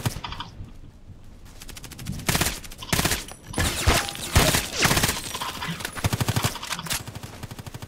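Rapid automatic gunfire from a first-person shooting video game, loud and close, with dense rattling bursts, rapid single shots and a steady clicking run at the end, no voices over it.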